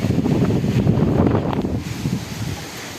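Strong, steady wind from a storm in the Khulna region roars and buffets the microphone, a dense low rumble that eases slightly toward the end, with no voices.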